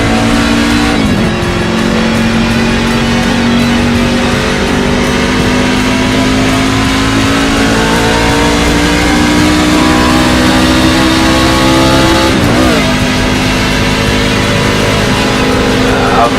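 NASCAR race cars roar and rev at Las Vegas in a NASCAR e-racing video game, a loud continuous engine drone with rising pitch and a second car sweeping past near the end.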